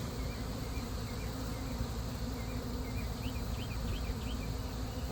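Honeybees buzz at a hive during a removal from a mobile home in Lakeland, Florida, a dense continuous drone of many insects close by, steady and unbroken throughout.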